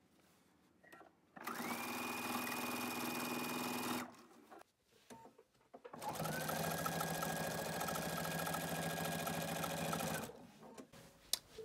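Sewing machine stitching quilt binding in two loud, steady whirring runs, a shorter burst then a longer one, with a pause between, close up; a brief spoken phrase occurs.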